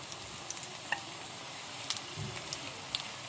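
Food sizzles steadily in a frying pan on a hostel stove, a faint continuous crackle with occasional sharper pops and light stirring scrapes, no talking.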